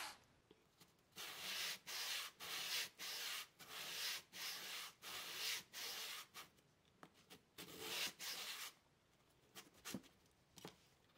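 Someone hand-sands the edges and corners of a small wooden dollhouse armoire. It makes a faint, close, rhythmic scratching in regular back-and-forth strokes that slow and thin out near the end.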